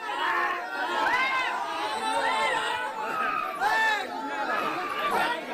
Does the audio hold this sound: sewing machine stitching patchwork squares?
no